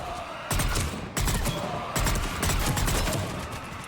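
Enemy gunfire in the video game Mass Effect 3 comes as dense, continuous bursts of rapid shots that run almost without pause through the whole stretch, loud and close.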